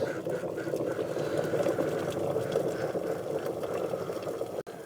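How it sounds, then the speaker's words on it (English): An electric kettle boils water with a Rover 75 engine thermostat dropped straight into it, giving a steady, close rumbling bubble and hiss throughout, with a brief click near the end. "we're boiling again in the kettle this time"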